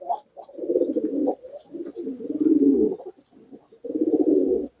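Pigeons coo close by in a few rolling, throaty phrases, separated by brief pauses.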